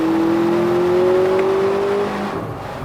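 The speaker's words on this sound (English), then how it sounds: "Some artificial engine noise, it sounds pretty cool though." A Lexus TX 350 three-row luxury SUV's engine accelerates hard and steadily, a rising engine tone climbing through the gears for several seconds, loud and close, with augmented artificial engine sound, before easing off at the end.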